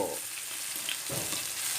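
Cabbage stir-frying in a hot wok, a loud continuous sizzle and hiss with brief clatter of stirring.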